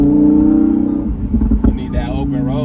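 A Lamborghini Huracan Evo fitted with a VF Engineering supercharger kit rumbles loud and close during a test drive, its engine note rising and falling with throttle while people talk over it.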